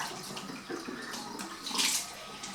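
Warm water runs steadily from a tap into a sink for face washing, a close, continuous splashing rush with a brief louder surge near the end and no talk.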